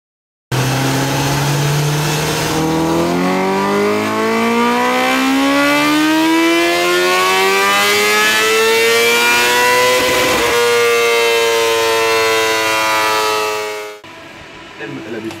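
A Honda CBR 1000 RR-R SP sport motorcycle revs on a dynamometer, its engine climbing steadily in pitch over a long, loud, close pull before cutting off abruptly near the end.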